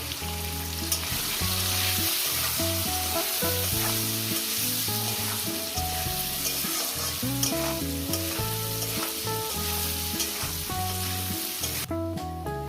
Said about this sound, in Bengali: লবণ হলুদ দিয়ে একসঙ্গে আমি ভেজে নেবো